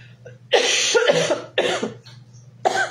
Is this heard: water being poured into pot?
no